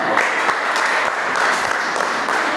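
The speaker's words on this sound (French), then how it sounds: "Applaudissez pour lui." Classroom applause in a French lesson in Rwanda, steady close clapping from a group of students filling the short stretch without pause.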